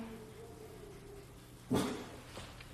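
A single short bark from a dog indoors during a casual live stream, one loud burst standing out over quiet room tone, with faint talk around it.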